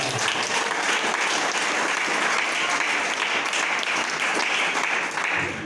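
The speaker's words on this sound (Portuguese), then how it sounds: "Aleluia, aplauda Ele." A church congregation claps loudly and continuously during a sermon, a thick wash of applause close and full from start to finish.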